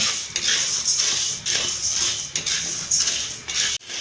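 Gram dal roasting in a pan for besan ladoo gives off a continuous dry rattle and scrape, with regular stirring strokes sweeping through it and a sharp knock near the end.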